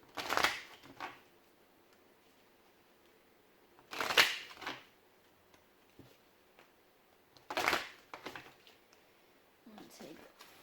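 A Moonology oracle card deck is shuffled in three distinct quiet riffling bursts a few seconds apart, with a softer fourth near the end and near silence between them.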